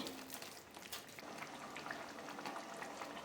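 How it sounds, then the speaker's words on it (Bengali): Prawn malai curry gravy made with coconut milk coming to a boil in a pan, a quiet bubbling and popping that rises and falls, alone and faint. "দেখুন ঝোলটা প্রায় ফুটে উঠেছে"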